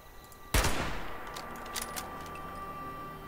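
A single sharp gunshot cracks out loud in the video game Fallout 76, followed by a decaying echo and quieter scattered shots.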